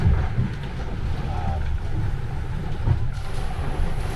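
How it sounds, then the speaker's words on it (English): Wind rushing steadily past a sailboat at sea, a low broadband roar with gusty swells and faint water movement, continuous and close to the microphone. "the winds that are starting to happen now"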